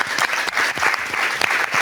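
A brief burst of dense audience clapping from a French TV talk-show crowd, loud and close, with no talk over it.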